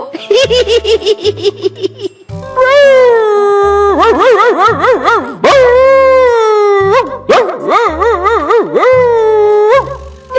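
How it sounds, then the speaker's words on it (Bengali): A cartoon dog howls and whimpers at night in a series of loud, wavering, high-pitched cries with pitch sweeps and short yelps, set over a rhythmic musical backing. "এই কুকুরটা আবার কোথা থেকে এলো?"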